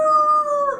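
A single wolf howls in a tabletop fantasy game soundscape, a sustained, loud, close tonal wail that holds steady before bending and fading at the end.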